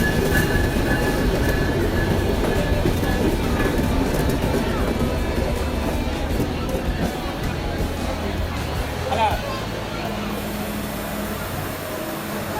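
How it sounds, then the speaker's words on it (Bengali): Sundarban Express train running on rails between Kushtia and Khulna, a loud steady rumble of wheels and carriages throughout with faint squeals, and voices murmuring underneath. "সুন্দরবন এক্সপ্রেস দুইটি ট্রেনই অনেক শক্তিশালী এবং দ্রুতগামী ট্রেন"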